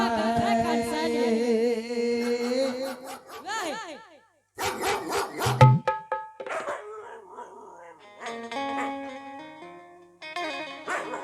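Dogs howl, yelp and bark amid a lively Bhagait folk stage performance, their drawn-out, wavering cries coming in bursts with brief gaps, loud and close.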